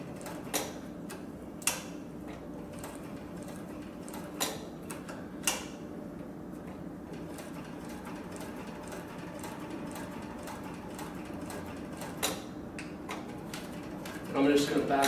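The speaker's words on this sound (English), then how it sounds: "So the machine's very, very quiet when it runs" A cylinder-arm triple-feed leather sewing machine runs quietly, a low steady mechanical hum with faint regular ticking clicks throughout, close by and subdued, with a louder burst near the end.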